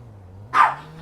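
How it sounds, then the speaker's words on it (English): One sharp, excited bark from a nearby dog rings out over a faint low hum indoors, then fades quickly. "My dog's going nuts."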